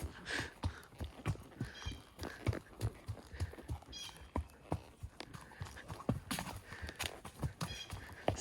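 A horse's hooves clop unevenly over hard, rocky trail ground at Mammoth Cave in a steady walking rhythm, fairly quiet and close, with scattered scrapes between the strikes.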